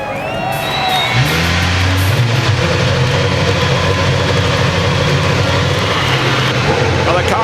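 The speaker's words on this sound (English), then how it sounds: "Drivers, start your engines." IndyCar engines fire up on pit lane at Chicagoland Speedway for the Peak Antifreeze & Motor Oil Indy 300, a loud low rumble that swells and holds as engines catch, with a commentator speaking over the start.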